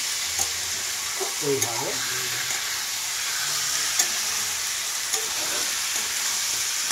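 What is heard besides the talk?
chicken being lightly fried in a pan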